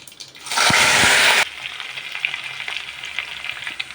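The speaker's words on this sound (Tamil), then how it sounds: "இப்போ கடுகு நல்லா பொரிஞ்சிருச்சு நம்ம வந்து பூண்டு போட்டுக்கலாம்" Mustard seeds and fenugreek frying in hot oil for a village-style dried-fish curry burst into a loud, dense sizzle for about a second, then drop back to a softer steady crackle with scattered pops.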